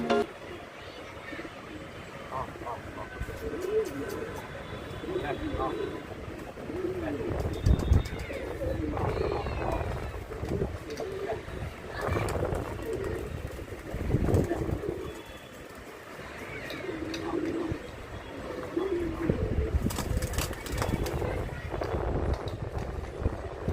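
A Bajra pigeon coos repeatedly close by, with bursts of wing flapping and rustling over steady background noise throughout.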